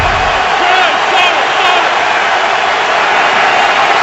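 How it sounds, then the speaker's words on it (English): A football stadium crowd roars at full volume during a Bears vs Steelers game, a dense, loud, continuous wash of cheering and shouting that holds steady without pause. "Crowd in full voice right now"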